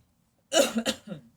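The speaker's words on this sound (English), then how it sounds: "I'm going to clear my throat" After a moment of quiet, a person clears their throat up close with a couple of rough, gravelly bursts.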